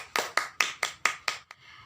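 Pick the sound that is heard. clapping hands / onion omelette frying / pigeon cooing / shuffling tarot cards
clapping hands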